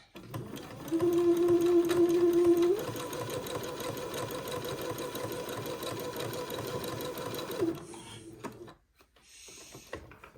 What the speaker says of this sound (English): And then I'll keep sewing until I get to this other little blue dot.